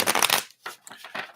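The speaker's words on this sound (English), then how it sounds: "So Maria, shuffle, shuffle." Tarot cards being shuffled by hand, a dense riffling burst followed by a few softer, shorter flutters and taps, close and alone.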